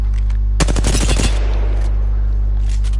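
A loud, rapid burst of automatic gunfire in the video game Apex Legends lasts under a second, then its echo tails off over a steady background hum.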